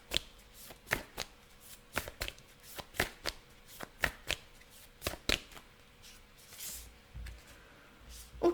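Tarot cards being shuffled and drawn during a card reading: a run of crisp, close riffling snaps and flicks in irregular bursts, fairly quiet, with no talking.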